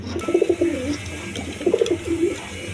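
Colored pigeons at a farm give two distinct bursts of throaty, rolling coos, close and clear, separated by a short lull with quieter coos in the background.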